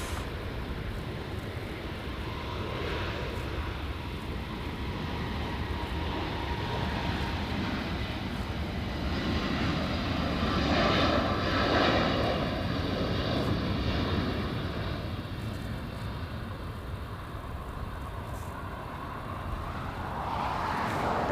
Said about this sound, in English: Here we go, Delta Airlines. A321 taking off.